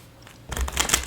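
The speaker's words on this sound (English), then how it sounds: "I'll do a little bit more shuffling here." Decks of cards being shuffled close by, a quick burst of riffling flutters and soft slaps lasting about half a second after a near-silent start, with no speech.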